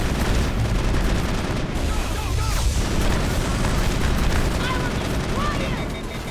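Sustained gunfire and booming weapon blasts from the sci-fi shooter Mass Effect fill the whole stretch at steady loudness, dense and continuous, with a voice talking over the combat.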